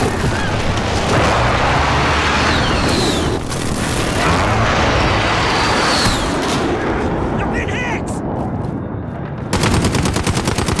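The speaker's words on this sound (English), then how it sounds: "Enemy precision airstrike." Precision airstrike explosions in a Call of Duty-style shooter, a loud, dense barrage of booming blasts and rapid gunfire filling the whole stretch, with brief voices mixed in.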